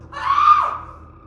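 A terrified young woman lets out a single loud, high scream that swells and fades within about a second, set in a horror story.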